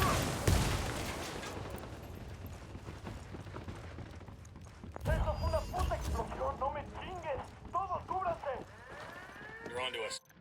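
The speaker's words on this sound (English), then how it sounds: "Opening fire." Gunfire in a video game, with dense broadband bursts crowding the first half before easing into scattered shots under overlapping voices and calls that carry through the rest.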